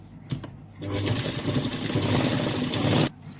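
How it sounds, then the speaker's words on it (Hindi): Sewing machine stitching the lining onto a mirror work blouse, a steady close motor whir running for about two seconds after a brief start, fairly loud and alone with no talk. "यहाँ पर हमने चारों तरफ इस तरीके से सिलाई लगा ली है"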